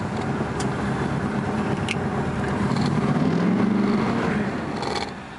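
A big car with a positive-traction rear end and 35,000 original miles is idling close by, a steady low rumble that rises slightly in the middle and then eases off, with a few light clicks over it.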